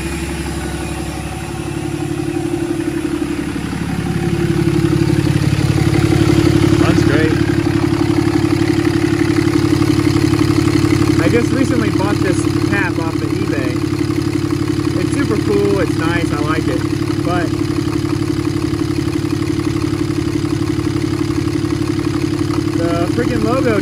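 A 6.7 diesel engine with a deleted, tuned 5-inch exhaust idles with a deep, steady rumble and clatter throughout, close and loud, while a person talks over it.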